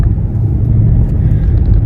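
Inside a car driving along a road, a loud, steady low rumble of engine and tyre noise fills the cabin with no talking.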